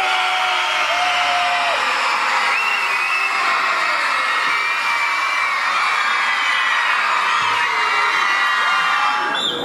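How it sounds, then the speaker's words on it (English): A crowd at a Bonfire Night school competition cheers loudly and continuously, with whoops, shouts and high children's yells layered together in a sustained roar. "and a cheer on 3, a cheer for 5p"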